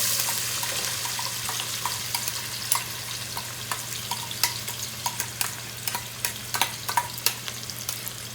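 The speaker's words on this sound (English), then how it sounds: "Right, I'm going to throw in the onions." Onions sizzle in hot vegetable oil in a pan, a steady close frying hiss broken by frequent sharp crackles and pops, with no talking.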